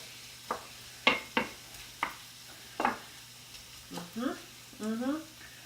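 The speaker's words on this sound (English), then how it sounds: "now it's starting to sizzle" Rice and pineapple sizzle and are stirred in a hot pan, browning, with scattered scraping and clinking hits, then a few brief vocal sounds near the end.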